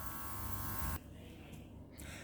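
A nail airbrush blows air to dry freshly sprayed nail paint, giving a close, steady buzzing hiss that cuts off abruptly partway through, leaving a quieter hum with a brief return at the end.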